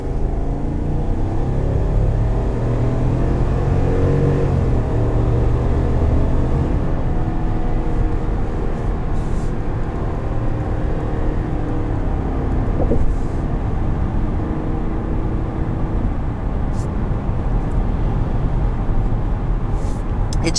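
A 2021 GMC Yukon Denali with the 6.2-liter engine and 10-speed transmission accelerates hard, its deep engine roar rising in steady waves through the gears, heard from inside the cabin.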